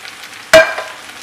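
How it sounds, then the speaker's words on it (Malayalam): A spoon stirs rice and sautéed carrots together in a pan for a biryani, with one sharp scraping clatter followed by a brief sizzle that fades quickly. "ആഡ് ചെയ്ത് നന്നായിട്ട് മിക്സ് ചെയ്ത് കൊടുക്കുക"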